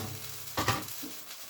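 Fajita meat and vegetables sizzle faintly in a hot pan, a soft steady crackle with a brief louder burst of frying midway.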